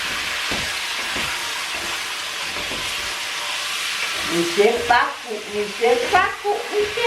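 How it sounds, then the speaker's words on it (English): Food in a cooking pot is stirred hard over a steady loud sizzle, with the scraping growing more forceful toward the end and voices talking nearby. "Hold the pot and mix it. Just stir everything."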